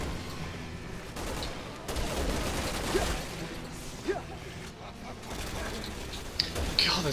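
Sniper gunfire in the video game Resident Evil 6, a string of sharp cracks and mechanical clicks scattered through a busy, dense game mix, with players talking over it.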